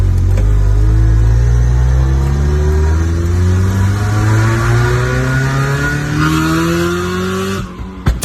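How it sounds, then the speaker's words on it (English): A loud, raspy straight-piped Mazda Miata exhaust accelerates hard, its pitch rising steadily through the revs before it cuts off abruptly near the end. "straight pipe Miata"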